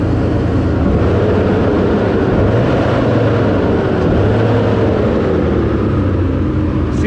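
Chevrolet S10 race truck engine running on a dyno, a loud continuous roar with pitch sweeping up and down as the throttle is worked, close and heavy, no talk.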